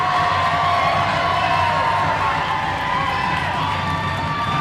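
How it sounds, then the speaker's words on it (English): A packed rec-center crowd at an ACHA college ice hockey game, Oregon at Colorado on senior night, roars and cheers right after a goal. The noise is loud and sustained, with whoops and shouts over a steady wall of crowd sound. "Now the crowd's back in it here at the rec center."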